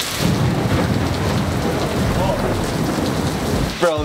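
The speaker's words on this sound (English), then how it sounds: "Oh, it's raining! Yes! It's raining!" Heavy rain with rolling thunder at the Jersey Shore: a dense, steady roar of downpour with a low rumbling swell throughout, and a voice breaking in briefly at the very end.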